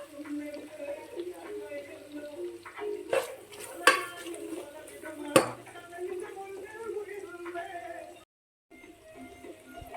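Chicken with beans and carrots being stirred in a pan while cooking chicken fried rice, with soft scraping and a few sharp utensil clacks against the metal over a faint sizzle, under a person talking.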